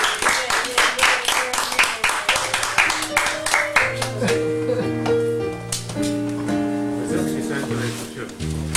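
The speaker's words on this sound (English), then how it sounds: "Give yourselves a round of applause for making your own craft together." Audience clapping at a one-man Thanksgiving cabaret show, sharp and close for about four seconds before a band and sustained musical tones take over and bury it.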